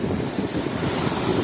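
Sea waves wash onto the beach at Anapa in a brief, steady surf wash, heavily mixed with close wind buffeting the microphone.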